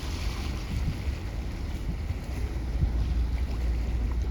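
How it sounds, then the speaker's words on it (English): Constant low wind roar, about 13 miles an hour, buffeting the microphone, with a rumbling, gusty texture and no voices. "the wind is blowing 13 miles an hour right now"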